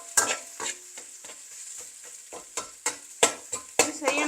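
Egg frying in a pan for a simple egg fried rice, a steady close sizzle broken by repeated sharp scrapes and stirs of a utensil, strongest in bursts toward the end.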